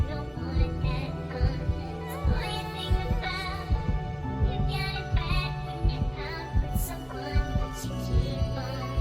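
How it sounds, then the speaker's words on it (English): A heartbeat-style thump is layered into a music track for a podcast intro, with repeated low pulses under sustained tonal layers across the whole stretch. "Why you got the heartbeat?"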